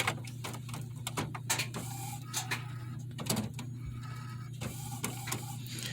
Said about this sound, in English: Now it's checking the printer cartridges.